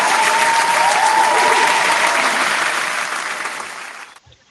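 Studio audience applause during a radio mixshow, a dense, loud wash of clapping that holds steady for about four seconds, then fades quickly and cuts to near silence.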